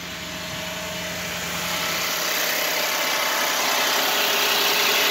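A 2010 Buick LaCrosse with a 3.0 V6 idles steadily after a cold start, heard up close with the hood open. The engine holds a loud, constant drone that builds slightly over the first couple of seconds, with no talking.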